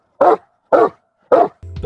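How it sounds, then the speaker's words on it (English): Dubbed puppy barks from a Christmas movie: three loud, evenly spaced yaps with an odd, unnatural tone, followed by a short burst of music at the end. "Why did they dub like that weird bark in for that tiny little puppy though?"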